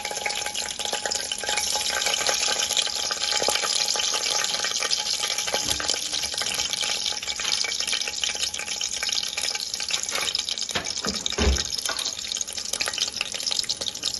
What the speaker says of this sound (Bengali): ছোট এলাচ, লবঙ্গ আর দারচিনি। এগুলো আমি ফোড়ন দিয়ে দেব, আর সাথে দেব 2টো কাঁচা লঙ্কা।